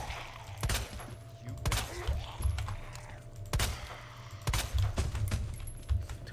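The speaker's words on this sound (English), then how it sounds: "how many shots does it take to the head?" Gunshots fired in Resident Evil 2 Remake, several sharp broadband cracks spaced a second or so apart over a constant low game-ambience hum, moderately loud with no talk.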